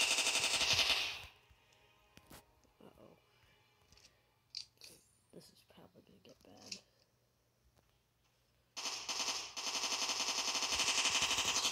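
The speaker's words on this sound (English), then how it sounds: "So, I'm just gonna shoot him a whole bunch." Rapid automatic gunfire in an SCP video game, fired at a monster in loud sustained bursts at the start and end, with quieter clicks, footsteps and game sounds in between.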